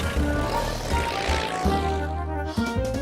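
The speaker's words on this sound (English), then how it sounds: "But today, he decided to fly in my toy plane." A toy propeller plane buzzes steadily through a cartoon scene, its drone rising and shifting in pitch with a brief dip near the end, heard under background music.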